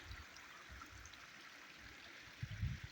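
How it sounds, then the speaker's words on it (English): A small stream flows on a spring hike near an abandoned mine site, giving a faint, steady trickle with low rumbles of wind or handling noise toward the end. "listen to the water"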